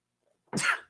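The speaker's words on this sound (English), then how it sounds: "Oh, that's a real sneeze right there, folks." A single sharp, explosive sneeze bursts out close by after a moment of silence, then quickly fades.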